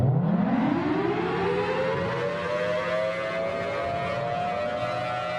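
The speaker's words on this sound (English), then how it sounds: "Warning sirens." A warning siren effect from the Triumph Audio Impact Foundry cinematic sound library winds up from low to a high sustained wail and holds steadily, loud and alone.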